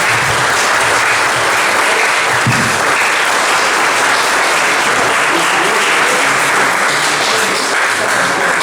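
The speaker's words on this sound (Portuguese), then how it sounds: "Vamos dar uma bela salva de palmas aos casais pela data natalícia." Loud, sustained applause for couples at a church thanksgiving celebration of a 90th birthday, a dense roomful of clapping at an even level from start to finish.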